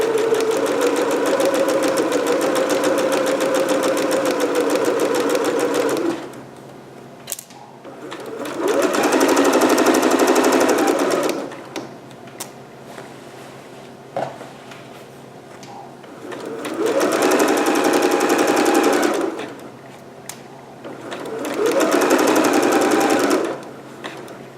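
A sewing machine stitches long gown fabric in loud, close bursts of rapid whirring, three or four runs of several seconds each separated by quiet pauses.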